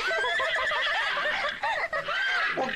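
A cartoon horse neighs loudly in an animated series, a long wavering whinny that rises and breaks into snickering bursts, close and clear with no speech over it.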